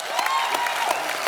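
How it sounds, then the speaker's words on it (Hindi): Studio audience clapping on an Indian television comedy show, a dense, steady burst of applause heard on its own at close range. "जोरदार तालियां एक बार।"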